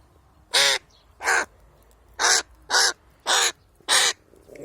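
A crow caws six times in a steady, evenly spaced series of loud, harsh calls, close by while being fed, with quiet background between calls.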